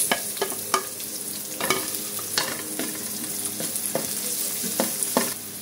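Onion sautéing in a pan for kare-kare, a steady sizzle with repeated sharp stirring scrapes and clinks, close and fairly loud, with no talk.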